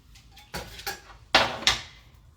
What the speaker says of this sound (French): je vais venir clipser mon couvercle ici où il y a mon doigt